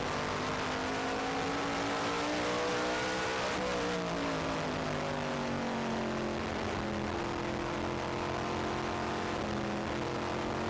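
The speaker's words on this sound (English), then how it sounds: "you are right on and off the throttle trying to manhandle these cars around this very, very fast 5/8 mile oval" A USAC Silver Crown race car engine heard from onboard on a fast 5/8 mile oval, a loud, continuous roar that rises and falls in pitch as the driver goes on and off the throttle.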